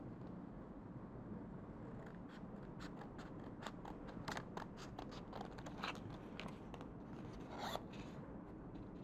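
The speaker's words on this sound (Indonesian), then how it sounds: "Setelah adik-adik print, adik-adik gunting sesuai dengan garisnya." Scissors snip steadily through printed paper along cut lines, giving a faint run of small crisp cuts over a low constant background hum.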